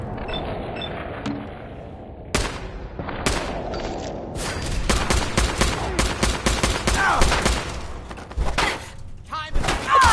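Gunfire in the video game Fallout 4: sharp, loud shots in rapid irregular bursts with thuds and impacts, growing denser after a quieter start, with voices talking in between.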